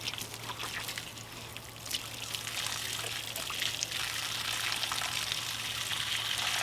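Hot water pours out of a tiny off-grid washing machine as it is tipped, a close, continuous splashing trickle that holds steady and grows slightly fuller over the pour.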